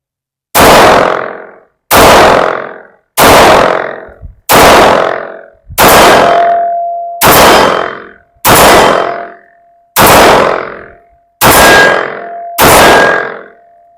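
A Sarsilmaz SAR9 sub-compact pistol fires ten loud, sharp shots at a steady pace of about one every one to one and a half seconds. Each crack rings out briefly before the next.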